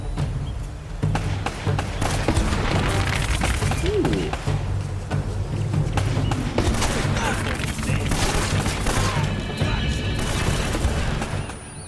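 Grenade explosions and bursts of gunfire from the video game Uncharted, a loud, dense barrage of booms and rapid shots that continues almost without a break.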